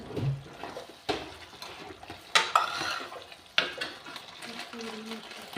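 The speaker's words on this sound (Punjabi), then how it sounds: "ਸਾਰੀ ਸਬਜ਼ੀ ਦੇ ਵਿੱਚ ਚੰਗੀ ਤਰ੍ਹਾਂ ਆਪਾਂ ਕਰ ਦਾਂਗੇ ਤੇ ਮਿਕਸ" Capsicum sabzi gets stirred in a pan with a spoon or spatula, giving scattered scrapes and a few sharp clinks against the metal over a soft background of sizzling, with no one talking.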